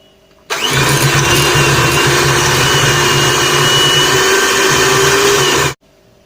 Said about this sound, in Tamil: இப்போ இது ரெண்டையும் சேர்த்து பீட் பண்ணி எடுத்துக்கலாம்